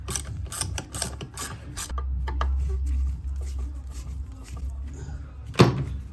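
A screw loosened on a Yamaha Jog CY50 scooter, close ratcheting and clicking mechanical turns with a low steady hum and a sharp metallic clack near the end.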